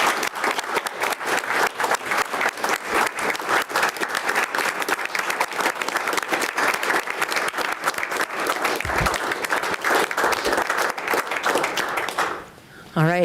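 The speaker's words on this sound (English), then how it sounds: "Let's give them a round of applause." A meeting-room audience applauds the Yankton Bucks, a state champion team, at a city commission meeting. Loud, dense clapping runs steadily for about twelve seconds, then fades as a voice begins.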